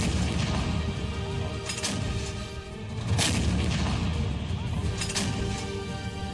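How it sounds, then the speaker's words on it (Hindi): Russian cruise missiles launch at ISIS targets near Palmyra with a loud, sustained roar and rumble that swells and surges across several seconds, marked by a few sharper bursts. "पलमायरा के आसपास के इलाकों में रूस का 4 क्रूज मिसाइल से हमला करना"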